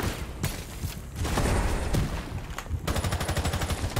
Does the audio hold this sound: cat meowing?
no